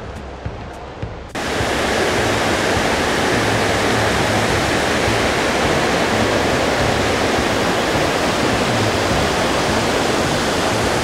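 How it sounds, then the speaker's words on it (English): Water stream running through Iao Valley park on Maui, a loud, constant broadband rush close by that starts abruptly after a short quieter moment and continues steadily without a break. "the water stream running along through this beautiful park"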